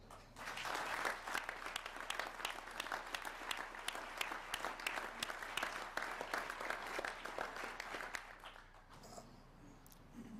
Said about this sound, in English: the reality of economic diversification now deserves your applause